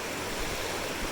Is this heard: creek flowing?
yes